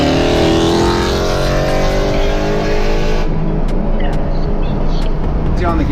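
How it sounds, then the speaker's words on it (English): A loud engine revs hard with a throaty exhaust roar, then drops off abruptly, leaving a quieter idle with a few faint clicks. "Sometimes the exhaust makes it sound like you guys are racing."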